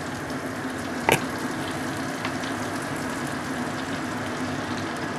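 Mustard oil warms in a pan with a steady low sizzle and faint bubbling, a single sharp clink near the start, no voices.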